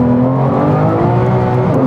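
A Porsche 911 GT3 Touring with a PDK gearbox pulls away hard on a cold day, its engine note loud and close, rising in a smooth continuous surge over two seconds with no talk.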